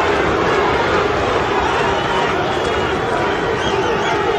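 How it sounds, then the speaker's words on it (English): Boxing arena crowd at the Ray Mercer versus Tommy Morrison fight, a dense, loud roar of yelling spectators chanting for Duke, continuous and undifferentiated for the whole stretch. "Crowd yelling Duke."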